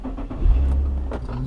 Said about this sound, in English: I don't know if the car's going to start.